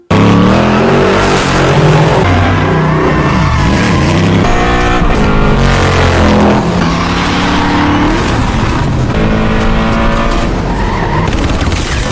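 Tires skid and squeal while cars rev and race past during a car chase in the action film The Expendables, loud and continuous under a pounding score.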